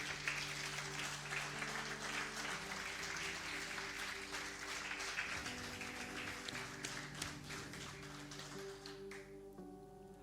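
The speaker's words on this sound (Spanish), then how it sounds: "Dale un aplauso al Señor." A church congregation claps in praise of the Lord, a faint, steady patter of hands carrying on for several seconds beneath a low sustained tonal hum.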